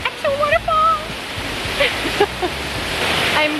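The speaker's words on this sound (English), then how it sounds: "Now it's an actual waterfall." A waterfall swollen after a full day of rain on an autumn hike in Belgium rushes steadily, a broad constant roar with brief voices and birdlike calls over it.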